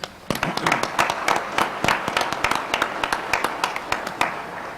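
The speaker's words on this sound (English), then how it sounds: "give another round of applause to our speakers" Applause for the speakers at a CBTU convention session, close, crisp individual claps standing out sharply over a continuous wash of clapping from the crowd.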